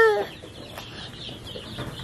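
Soft clucking and peeping from young chickens, with a brief higher chirp at the start, fairly close and steady over a quiet background.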